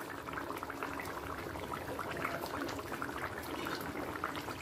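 Katla fish curry with winter vegetables and fried fish simmering in a pot over a gas flame, a steady close bubbling and hissing boil that runs without pause and stays evenly loud throughout.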